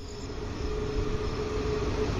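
Train at Chaudhari Bandh railway station on the Hatia–Islampur Express route, a steady low rumble and hum of rolling stock with a faint whine, continuous and fairly loud with no voices.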